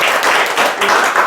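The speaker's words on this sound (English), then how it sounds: "Let's give Sarah an applause." An audience gives a short, lively round of clapping, a dense burst just over a second long heard close and alone.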